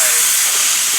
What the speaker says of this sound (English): I can hear the steam pumping.